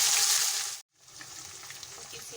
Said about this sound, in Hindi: अब लहसुन अदरक का पेस्ट डालेंगे